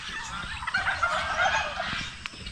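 Guinea fowl kept as farm birds call out in a close, continuous run of harsh, rattling cries that overlap and swell, with no talking.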